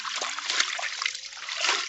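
Clothes being rinsed by hand in water produce continuous splashing and sloshing, close and fairly loud, with no talk over it.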